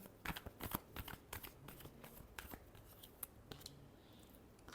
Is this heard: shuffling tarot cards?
yes